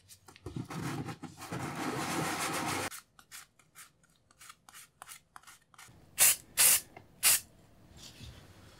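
An aerosol can sprays paint onto a replica antique hood ornament, a loud sustained hiss for a few seconds followed by scattered small clicks and then three short, sharp spray bursts close by.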